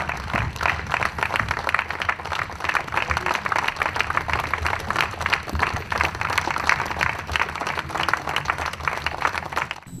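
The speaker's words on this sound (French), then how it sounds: "applaudissons pour Papa Diangenda, le président fondateur du parti Défi Congo" An audience at a political party meeting in Paris claps in a dense, continuous burst lasting around ten seconds, loud and steady with a faint crowd murmur beneath the applause.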